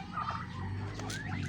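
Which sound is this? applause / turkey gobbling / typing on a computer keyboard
turkey gobbling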